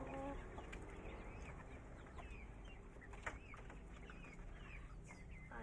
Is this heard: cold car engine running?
no